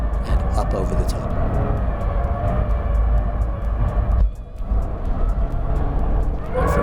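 A 2019 VW Golf GTI Rabbit Edition accelerating hard on a race track, its engine droning loud and steady throughout, with a brief dip near the end before the roar builds again; a voice talks over it.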